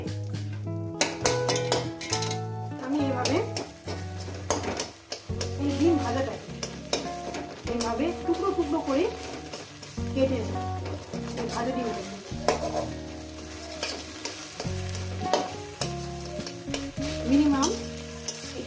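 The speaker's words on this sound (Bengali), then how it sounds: "এইভাবে আমি সুন্দর করে ভেজে নেব এরপরে ডিমটাকে" An egg frying in a pan, flipped and turned with a spatula; continuous sizzle under repeated scraping and knocking strokes against the pan, close and steady throughout.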